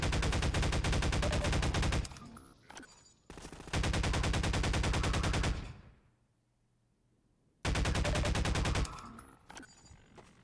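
Gunfire in the video game Half-Life 2: loud rapid automatic bursts, three long strings separated by short pauses and a near-silent gap, close and dominant.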